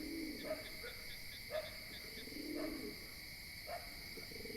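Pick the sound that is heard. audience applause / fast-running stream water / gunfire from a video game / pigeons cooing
pigeons cooing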